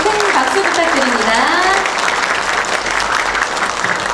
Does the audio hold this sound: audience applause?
yes